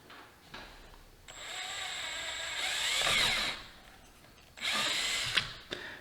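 A power drill with a 1/16 bit bores a pilot hole while fitting mirrors on a 2022 KLR 650 motorcycle, whining in two close bursts, a longer one and then a shorter one, over a quiet background.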